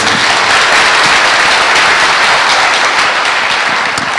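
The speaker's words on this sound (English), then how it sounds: "Let's give her another round of applause" Loud, sustained applause from a university audience at a mentorship program, dense clapping filling the whole stretch at an even level without voices.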